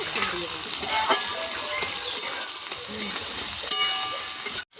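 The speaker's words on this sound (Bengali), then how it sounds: "আলুটা হালকা হালকা করে ভেজে নিয়েছি" Diced potatoes crackle and sizzle in a frying pan, a steady bright hiss with scattered pops and faint stirring clatter throughout, close and moderately loud, with no voices.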